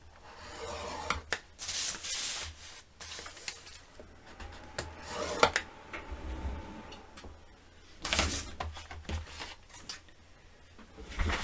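Cardstock pieces being scored for a mini album, heard as quiet, close rubbing and scraping strokes in uneven bursts, separated by short pauses and light handling noises.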